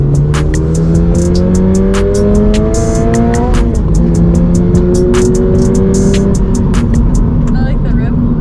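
A new 2022 Subaru BRZ engine revs loudly and steadily up to its rev limiter, a sustained climbing engine tone that holds and bounces near the top, with people talking over it.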